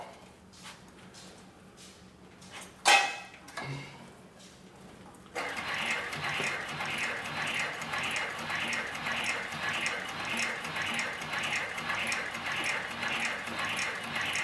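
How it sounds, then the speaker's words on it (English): A free-arm saddler's sewing machine stitches 10 to 12 ounce leather onto 5 ounce leather, starting after some handling noise and then running as a steady, loud, rapid mechanical rhythm that continues without a break. "then we'll sew this piece of 10 to 12 ounce leather to the piece of 5 ounce."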